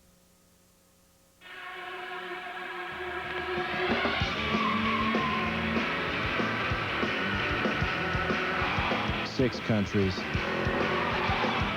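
Race cars from the Grand Tour racing video game skid with squealing tires and engine roar, loud and sustained through the clip, with a narrator talking over the action.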